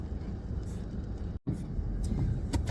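Car traffic in rain, a steady wash of road and engine noise from idling and passing vehicles, with a brief dropout midway and faint hiss of wet tires.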